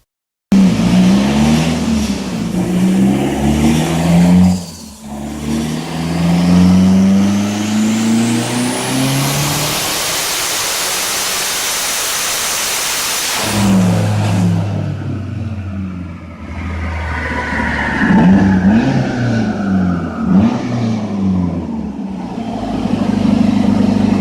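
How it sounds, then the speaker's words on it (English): A Nissan 240SX revs hard on a dyno, the engine climbing repeatedly through loud, close, roaring pulls with a long high-pitched sweep, brief drops between runs, and a final winding down. "Video of the dyno, the only video of the dyno that my dad filmed, inserted here."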